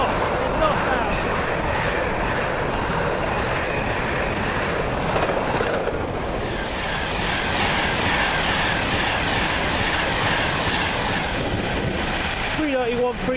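Locomotive 66424 rumbles past on the line near Lancaster and Carnforth with a steady, loud, broadband roar that fills the whole stretch, while a person speaks over it.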